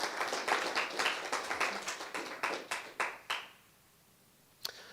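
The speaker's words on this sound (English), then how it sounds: "Big round of applause." An audience gives a round of applause at a live talk with music, a short burst of rapid clapping that fades out after a few seconds, leaving near silence before one last sharp tap.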